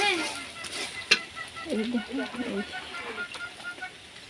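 Chili paste frying in a pan with a soft continuous sizzle, broken by a sharp clink of the utensil and stirring scrapes. A faint voice murmurs underneath at moderate distance.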